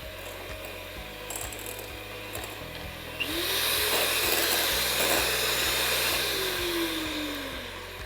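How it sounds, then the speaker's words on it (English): An electric hand mixer creams sugar and margarine for buttermilk cupcake batter, a steady mechanical whir that grows louder and fuller partway through as the beaters work the mixture close by. "you can use a electric machine like I'm doing right now"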